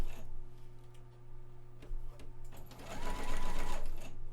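A sewing machine runs a back stitch along chalk lines on a box-pleated and knife-pleated skirt sample, its steady motor hum and rapid needle ticking continuing close up, surging louder toward the end.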